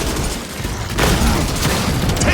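Gunfire in a Gears of War multiplayer match: a dense, loud burst of shots and booming impacts that swells after a quieter opening and keeps rattling to the end.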